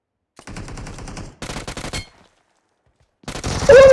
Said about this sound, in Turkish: headshot sesini duydunuz değil mi arkadaşlar?